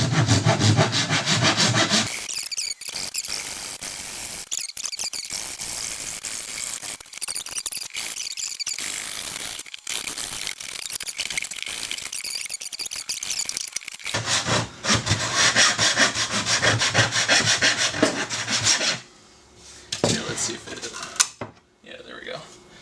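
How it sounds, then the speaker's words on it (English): A handsaw cutting through a wooden board, with harsh rasping strokes in long repeated bursts and short pauses between them, loud and close, while a person talks at times. "Then you take your handsaw and you cut that. And I'm going to very carefully start cutting."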